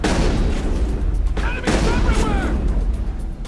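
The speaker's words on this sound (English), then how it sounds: "This is shotgun. I shouldn't have to aim it like a fucking rifle." Shotgun blasts in the game Mass Effect: a few heavy, booming shots in quick succession over constant combat rumble, with a voice speaking partway through.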